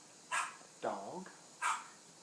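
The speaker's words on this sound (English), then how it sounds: "There's a dog." A dog gives two short, sharp barks with a brief whining yelp between them, faint and set against quiet background hiss.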